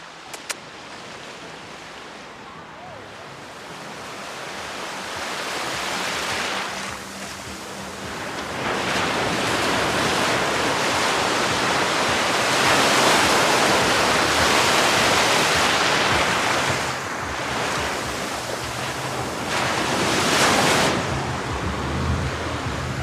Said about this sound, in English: I have waves coming up and crashing into my ankles.